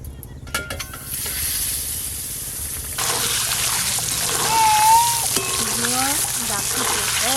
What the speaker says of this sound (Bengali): ওই একই তেলে ডিমগুলো ভেজে নেব।